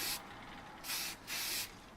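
Spray can laying primer paint onto an AMT U.S.S. Enterprise model kit, two steady hissing bursts of roughly half a second each after an earlier burst, close and fairly quiet, with no talk.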